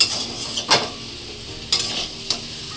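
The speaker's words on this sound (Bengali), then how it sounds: "আগে চাউমিনটা ভালো করে ভেজে নিই" Chow mein fries in a pan with a soft continuous sizzle, broken by a few sharp scraping stirs of a utensil against the pan, nearby and with no talking.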